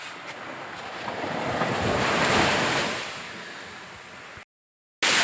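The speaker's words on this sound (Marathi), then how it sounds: "अथांग असा समुद्र." Sea waves on a Konkan beach roll in as a broad, steady wash of surf that swells and recedes, with wind buffeting the microphone and a brief silent gap near the end.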